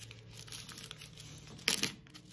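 A sheet of paper folded in half, a short crisp crinkle and crease in the middle of a quiet room, preceded by light rustling as the paper is handled.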